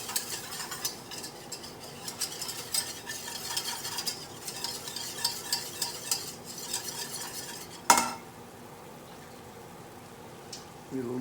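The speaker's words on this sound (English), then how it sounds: "and mix it to make a roux" Butter and flour are stirred together into a roux in a pan: a close, rhythmic scraping and stirring with soft sizzling for several seconds, then it stops, leaving a quiet pause and a faint clink.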